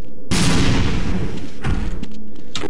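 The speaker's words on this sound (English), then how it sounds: "Throw grenade." A grenade explodes in the video game Half-Life, a loud sudden blast that rumbles and decays over about two seconds, followed by a brief sharp burst near the end.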